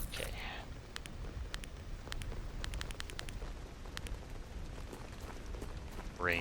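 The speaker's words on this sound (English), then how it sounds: "Rain certainly moved in." Rain falling in S.T.A.L.K.E.R. Anomaly GAMMA, a steady soft hiss with scattered sharp, ticking drops at irregular intervals, and brief voice sounds at the start and end.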